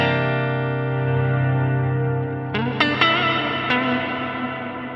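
Plate reverb from a NUX MG-300 multi-effects unit is mixed into a sustained electric guitar chord, which rings and decays before a few picked notes follow, trailing a lush tail.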